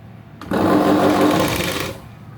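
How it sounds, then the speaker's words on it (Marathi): A sewing machine runs a single steady burst of stitching along the edge of a V-neck blouse, starting abruptly after a faint click and whirring close and loud for about a second and a half before stopping. "आता आपल्याला किनारी शिलाई मारायची"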